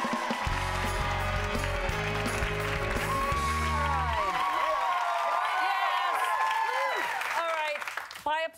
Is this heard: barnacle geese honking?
no